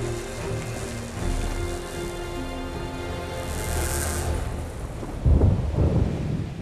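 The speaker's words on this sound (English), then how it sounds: "Suddenly, a storm draws near." A thunderstorm approaches over the Bolivian mountains, with a low rolling rumble of thunder building from afar, rain hissing steadily, and a closer, heavier thunder roll near the end.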